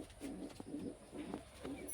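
A pet pigeon or dove coos softly indoors, four low throaty calls repeating in an even rhythm, faint and close.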